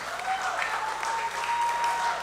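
Audience applause at a junior school graduation ceremony, steady and moderately loud clapping from a seated crowd filling the whole stretch, with a faint tone running underneath.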